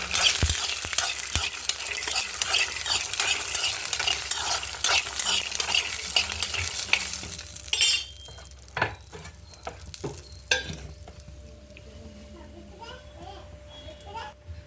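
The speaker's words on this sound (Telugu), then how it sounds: "కొంచెం నూనె వేసుకుందాం ఫ్రెండ్స్. శనగిత్తులు, పచ్చిమిర్చి వేయించుకోవడానికి." Chickpeas and green chillies frying in oil, a dense crackling sizzle with stirring for the first eight seconds, then thinning to scattered pops and scrapes; children's voices chatter faintly in the background.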